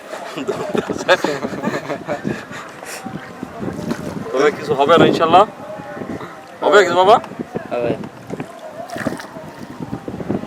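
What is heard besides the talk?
wind on a river while rowing a boat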